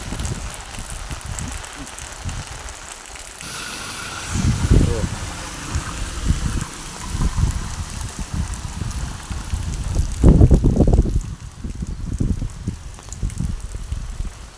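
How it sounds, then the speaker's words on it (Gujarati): Rainwater running through a flooded farmyard after half an hour of heavy rain, a continuous rushing, splashing wash with heavier surges. A person talks over it at times. "નજર કરો પાણી આવે"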